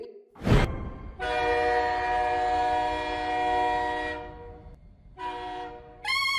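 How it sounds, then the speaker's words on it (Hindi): A passenger train starting to move, with a long steady horn blast, a second shorter blast and a sharp clank at the start, loud and close with rumbling wheels underneath. "अरे चल गई ट्रेन, चल गई, बड़ी देर बाद चली।"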